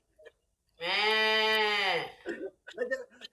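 A person imitates a goat with one long, wavering bleat, followed by brief bits of talk.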